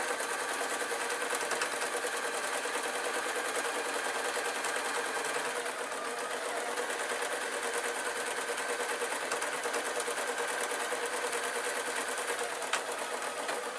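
Sewing machine stitching a patchwork rag rug, a steady mechanical hum with fast even needle rhythm running unbroken at moderate, slightly distant level.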